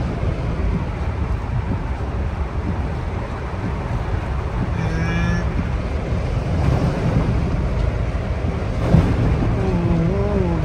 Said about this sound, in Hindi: जब सामने से गाड़ी आ रही है ना तो पानी बिल्कुल है ना बोनट के ऊपर से सीधा फ्रंट ग्लास पे आ रहा है